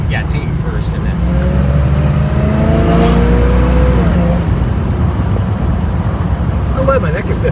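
A 1975 Chevrolet Monza with a 350 V8, revving loud and close while hanging in first gear, the engine note climbing and holding steady in a rough, throaty drone.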